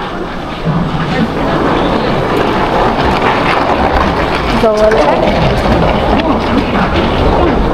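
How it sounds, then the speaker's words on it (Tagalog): A Taipei metro train pulls into the station with a loud, continuous rumble and rushing noise, a brief squeal of brakes midway, as someone speaks over it. "Kaya 2 minutes na lang. Andyan na yung tren."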